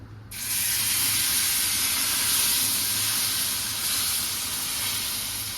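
Thin bottle gourd dosa batter hits a hot griddle with a sudden loud sizzle that keeps hissing steadily for several seconds and eases off slightly toward the end.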